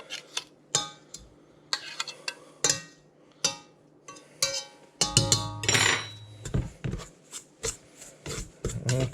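A pastry blender cuts margarine into flour in a bowl, giving repeated scraping, rubbing strokes with brief clinks against the bowl, close and fairly quiet.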